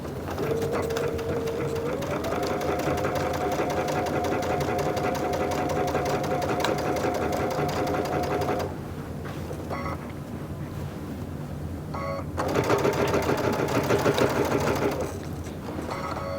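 A sewing machine stitches through a quilt made from fat quarters in a long, fast, steady whir. It pauses briefly, then runs again at close range with no talk.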